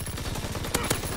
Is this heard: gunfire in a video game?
yes